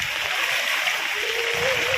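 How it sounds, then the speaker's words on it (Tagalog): Strong floodwater current rushing through a flooded street, a steady broadband roar of splashing, churning water that continues unbroken and fairly close. "Lakas ng agos."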